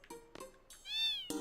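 A cat in Final Fantasy VIII gives a few short chirps and then one clear, rising meow, close and alone.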